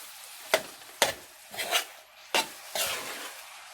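Colorful sweet rice being stirred in a pan for a restaurant-style dessert: a handful of distinct scraping, rasping strokes with soft sizzle between them, close and clear with no voice.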